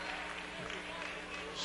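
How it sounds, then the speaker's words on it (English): A crowd at a college basketball game claps as players leave the court, a soft, steady wash of applause heard under a commentator's voice. "And they get a big hand from this crowd."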